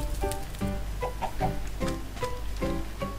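Chickens cluck repeatedly in Minecraft, a quick series of short, close clucks in an uneven rhythm over a low steady background hum.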